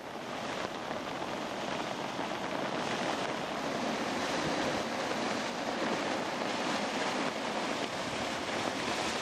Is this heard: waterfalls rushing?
yes